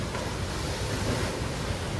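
Sea waves foam and break over black volcanic rock on the coast of Pantelleria, a steady close rushing roar mixed with wind buffeting the microphone, with no voices.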